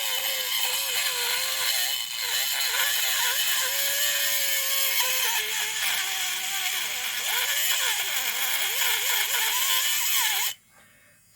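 A power tool running at its highest setting, 3, grinds burrs off copper with a loud, continuous whirring buzz whose pitch wavers and sweeps for about ten seconds before cutting off abruptly.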